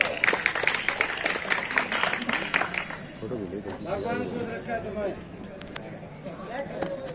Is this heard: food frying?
no